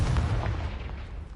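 A Confringo spell explosion in a wizarding video game, a single loud, deep booming burst that rumbles and fades over about a second, with no voices.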